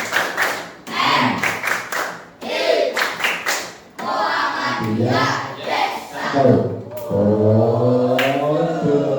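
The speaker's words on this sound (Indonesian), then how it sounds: "Baik, sebelum saya akhiri, tepuk TNI" Schoolchildren in a classroom perform the rhythmic TNI clap, bursts of patterned hand claps alternating with loud chanted voices in a lively call-and-response cadence.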